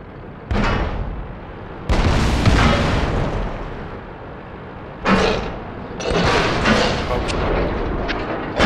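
Artillery shots boom through a World of Tanks Clan Wars battle, several heavy blasts with long rumbling tails spaced a second or more apart, loud and close, while a player talks in between.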